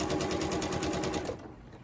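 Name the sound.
sewing machine stitching quilt pieces, back stitch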